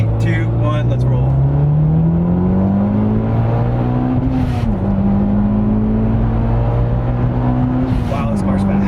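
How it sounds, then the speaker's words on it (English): Turbocharged car pulling hard in second gear on a highway, engine note climbing steadily with a whirring whine, dipping briefly at a shift and rising again, loud and close with voices talking over it. "So we'll do a nice second gear pull, and we'll go ahead and see how much boost."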